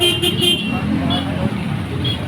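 Busy street traffic with cars and a tricycle crawling close together, a steady engine and road roar carrying a few short horn toots near the start, with a person talking over it.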